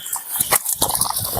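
A pet dog whimpers and yips in short, high, uneven cries, close by and moderately loud, with faint background noise between the whines.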